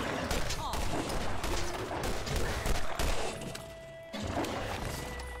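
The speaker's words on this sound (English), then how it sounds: "Let me try the sniper rifle." Gunfire in the video game Borderlands, including sniper rifle shots, comes as a dense run of sharp cracks and impacts in rapid succession, with a brief lull just before the final second.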